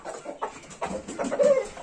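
A young rooster gives short, soft clucks in an irregular run of calls, close by and alone.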